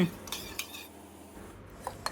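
Ladle stirring coconut milk and syrup in a metal pot, a few light clinks and scrapes against the pot over a quiet background.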